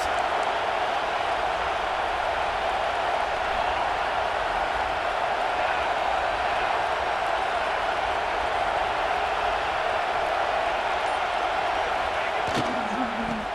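Steady roar of a college football stadium crowd at Penn State, fans cheering on the defense in the red zone against Washington, a broad continuous wash of noise with a commentator talking over it throughout.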